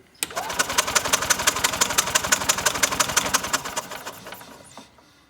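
An old golf cart engine cranks over with a fast, even chugging pulse that holds steady for about four seconds, then sputters and dies away near the end.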